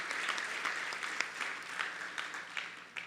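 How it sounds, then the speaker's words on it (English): A crowd applauds a kirtan devotional music group at an ashram's evening birthday concert: steady, dense clapping from many hands with a few sharper claps standing out, sustained through the whole stretch. "So a round of applause for Uncle SITAL and the Datta Kirtan Mandali."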